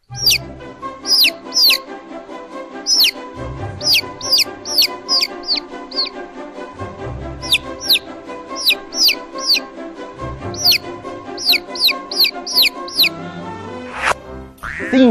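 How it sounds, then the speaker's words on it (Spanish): Chicks peep in sharp, high repeated chirps over bouncy children's music, with low clucking bursts recurring every few seconds. "4 pollitos."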